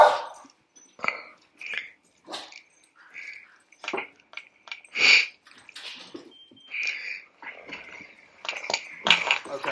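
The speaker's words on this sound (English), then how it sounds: "That sounds like a very friendly dog." A friendly dog makes a run of short whines, yelps and sniffs at close range, in uneven bursts with brief pauses between them and no talk over them.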